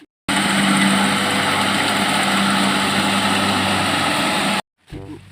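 A motorbike engine runs steadily and loud at close range for about four seconds, a constant droning hum with a low buzzing tone, then cuts off abruptly, followed by a brief murmur of voices.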